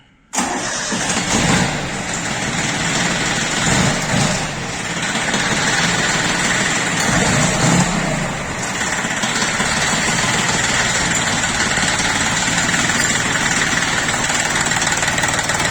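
A Japanese Yanmar F13D mini tractor's engine cranks and catches after a moment of quiet, then settles into a loud, steady idle close by, with no talk over it.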